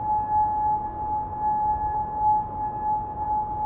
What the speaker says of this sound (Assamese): এতিয়া চাইৰেন বাজি উঠিছে